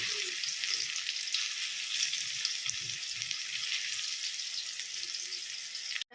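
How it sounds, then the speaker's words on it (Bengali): Panch phoron and a dry red chilli frying in oil left over from frying lentil fritters, a steady close sizzle with faint crackling, cutting off abruptly at the end. "ভেজে রাখা তেলটাতেই বড়া তুলে নেওয়ার পর আমি দিয়ে দিলাম পাঁচ ফোড়ন আর একটা শুকনো লঙ্কা"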